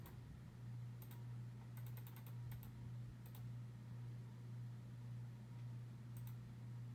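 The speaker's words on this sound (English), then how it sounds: "I'm just going to type some random numbers." A few soft clicks of calculator keys tap out in small clusters against a steady low hum, faint and close, with long pauses between presses.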